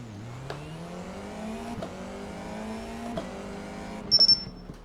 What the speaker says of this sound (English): But now we're getting to the point where the engine bogs down.